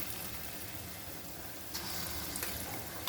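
Lentil fritters, dal bora, frying in hot oil on a gas stove turned low, a steady close crackling sizzle throughout with a few louder pops toward the end.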